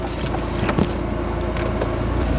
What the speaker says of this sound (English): we're gonna do some city driving now